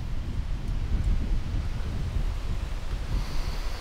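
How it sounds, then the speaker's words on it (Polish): Strong wind roars and buffets against the microphone, a constant low rumbling gust with no voices. "Strasznie wiatr się zerwał."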